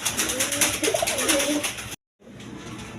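A pair of big-sized Rajgolla pigeons, both male, coos in low rolling phrases up close, then the sound cuts out briefly before faint background noise resumes.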